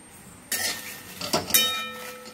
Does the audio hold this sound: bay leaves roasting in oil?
yes